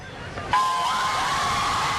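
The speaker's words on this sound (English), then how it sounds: "The crowd outside court exploded into chants, songs, and hugs" A crowd outside the U.S. Supreme Court celebrating the 2015 same-sex marriage ruling bursts into loud cheering and screaming half a second in, with a shrill whistle cutting through the sustained roar.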